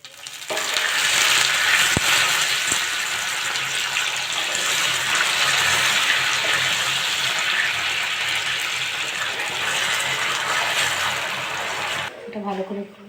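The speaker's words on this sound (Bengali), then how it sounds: "আমি এবার দুধ দিয়ে দেবো।" Milk is poured into caramelized sugar in a hot pan while making semolina halwa, and it sets off a loud, sustained, close sizzling hiss that lasts about twelve seconds before cutting off.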